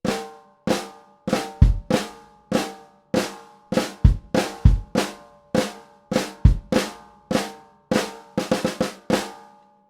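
Four bars of a rock drum part, played solo on a kit, with steady driving snare and bass hits, crashing cymbals and busy flam fills, loud and close.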